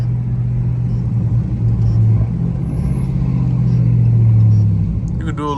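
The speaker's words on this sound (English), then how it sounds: "You doing a burnout downtown?" A Dodge Durango Trackhawk rumbles during a burnout in downtown traffic, a loud, deep engine drone that swells and holds, close by, with a voice talking over it and a brief sharper noise near the end.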